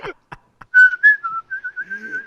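A man whistles a short, wavering tune nearby in a casual indoor chat, preceded by a few brief clicks and faint voice fragments.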